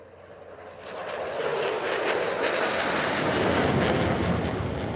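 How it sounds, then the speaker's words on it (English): An F-35C jet makes a low, fast pass at 400 knots in a simulated carrier break, a loud rising roar that swells and holds, thick with engine rumble and some wind buffeting on the microphone. "brings the F-35C in for a simulated carrier brake at 400 knots"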